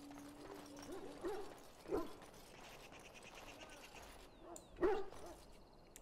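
A dog barks a few times in Dragon Age: Origins, with separate short barks spread out over steady game ambience and music. The barks are moderately loud and sound fairly close.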